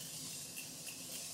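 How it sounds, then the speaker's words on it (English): Setting spray misted from a bottle over a made-up face, a steady close hiss lasting the whole moment with slight pulses, no talking. "Setting spray,"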